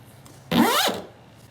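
A single quick zipper pull opens a Jeep Wrangler soft top using a paracord zipper pull, a close, sharp rasp lasting under half a second against quiet outdoor background.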